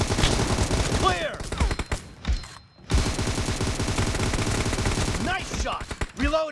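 Rapid bursts of gunfire from a shooter video game ring out almost continuously, with sharp repeated shots, brief pauses and synthetic sweeping effects over the top.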